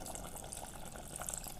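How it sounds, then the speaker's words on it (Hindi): About half a glass of water is poured into cooked spice masala in a pot for a kaleji and gurda (liver and kidney) gravy, a steady, quiet, close-up splashing and filling sound with no speech. "मैं 1/2 ग्लास के करीब पानी डालूंगी इसमें।"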